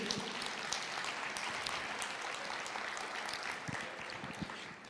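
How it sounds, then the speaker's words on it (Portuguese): A church congregation claps during a sermon, a continuous bright patter of many hands heard at moderate distance with no voices over it. "Você pode aplaudir ao Senhor por isso?"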